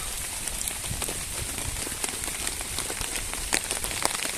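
Steady rain patters on a tent and hammock tarp at a forest camp overnight, a dense continuous hiss with scattered close drips and taps, no voices.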